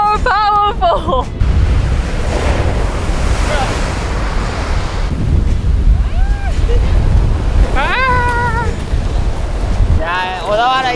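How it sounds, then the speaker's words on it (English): Sea waves crash and roll continuously onto the coast at Odawara, Japan, loud and close with strong wind buffeting the microphone, while people talk and exclaim over the surf. "we are right next to the sea"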